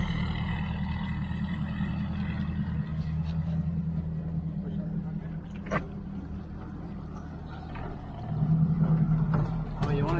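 Mercury V8 300HP outboard on a bass boat running at speed, a steady, muffled low engine drone rising slightly near the end, with voices talking over it.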